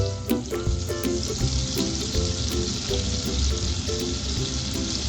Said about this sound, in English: Now we can see that the butter is melting.